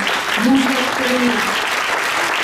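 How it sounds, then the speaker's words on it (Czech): A big round of applause rises for Jiří Plocek at the Kuřim cultural awards ceremony, a dense wash of clapping running throughout as someone speaks over it. "Tak ještě jednou krásný a velký potlesk pro Jiřího Plocka."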